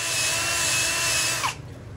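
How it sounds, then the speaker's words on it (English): A power drill spins a stainless steel bottle brush while cleaning a Honda B20 oil dipstick tube, giving a steady, loud whir that cuts off abruptly near the end. "put it in my drill,"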